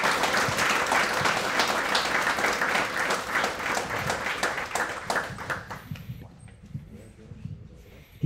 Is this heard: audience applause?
yes